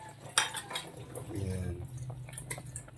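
A single sharp metallic clink as a lid goes onto a pot of crabs cooking, followed by faint clatter and soft bubbling close by.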